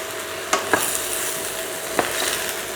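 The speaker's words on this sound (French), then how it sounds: "je les remue pour pas que ça grille trop en fait" Mushrooms frying in a pan, a steady soft sizzle with a few light scraping knocks as they are stirred, close and without talk.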